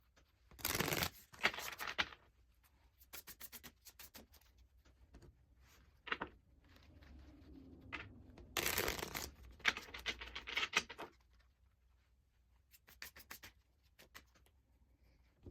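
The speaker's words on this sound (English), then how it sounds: "Let me get these shuffled up and we'll see what kind of guidance comes through the cards for this one" Tarot cards being shuffled by hand, close and dry: bursts of riffling crackle and soft slaps come in clusters with quiet gaps between, some longer riffles and a few short snaps, with no talk.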